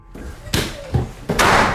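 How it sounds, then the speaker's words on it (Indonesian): A bedroom door slams shut inside a house, three heavy thuds in under two seconds, loud and close, each one leaving a brief rumbling room echo. "Waktu datang pintu kamar anaknya dibanting dong."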